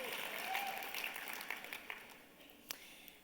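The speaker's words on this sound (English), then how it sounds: "Yeah, some applause for that." A seminar audience claps in a room, a burst of applause that thins out toward scattered individual claps, with some voices faintly present.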